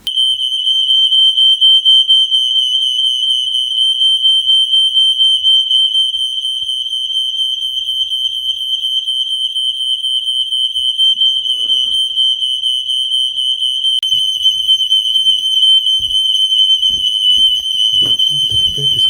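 Several household fire and carbon monoxide alarms sound together as one loud, continuous high-pitched electronic tone that persists throughout, with faint rustling and a few low knocks near the end.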